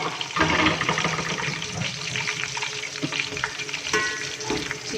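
Chicken pieces hit a hot pan of browned onions for a restaurant-style chicken biryani, giving a loud, busy sizzle with scraping stirs and clatter that stays steady throughout, with no voices.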